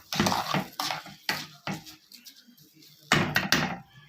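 Rice with vermicelli being sautéed and stirred in a pot, with bursts of scraping and clattering as a utensil moves through the grains, pausing briefly in between.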